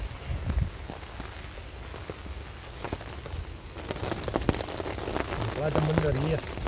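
Rain patters steadily on leaves and a shelter in the woods, a dense hiss with occasional louder drips close by, while a voice briefly speaks underneath near the end.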